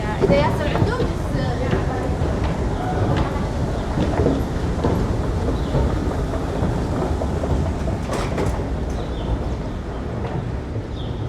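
A Toronto subway train rumbles loudly as it pulls away from the platform at Kipling station, a deep, continuous roar echoing through the station.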